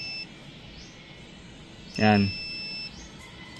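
A buzzer inside a TCL 50-inch smart TV under repair gives one short beep, clear over a steady electrical hum, with someone speaking briefly near it.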